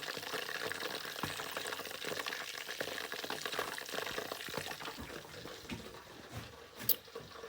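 Bicycle chain wax boils in a crock pot, a continuous bubbling, sizzling simmer with small pops, close and moderately quiet, with no talking.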